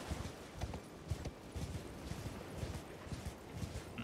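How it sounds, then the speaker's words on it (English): Horse hooves clip-clop in a steady galloping rhythm while riding through Elden Ring, the repeated hoofbeats fairly close and continuous over a low game background. "Riding the horse."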